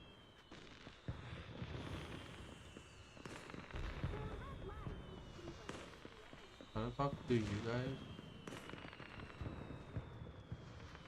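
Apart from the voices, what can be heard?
fireworks exploding in Zenless Zone Zero video game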